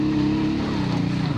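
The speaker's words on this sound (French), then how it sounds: "Allez, plein gaz." Trail motorcycle ridden off-road at full throttle, its engine giving a loud, close, continuous drone that shifts slightly in pitch over a brief moment, with no talking.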